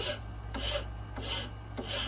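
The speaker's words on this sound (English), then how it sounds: "I'm sanding this." Hand sanding in a workshop makes a rhythmic rasping rub, four even back-and-forth strokes of about half a second each, close and clear with a low steady hum beneath.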